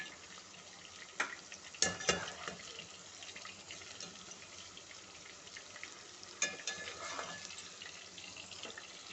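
Okra pieces fry quietly in hot oil with a low, steady sizzle, broken by a few sharp metallic clinks and stirring scrapes near the start and again later.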